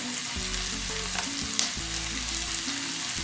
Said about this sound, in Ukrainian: І смажу до напівпрозорості. Ось цибулька стала такою напівпрозорою і додаю квашену капусту.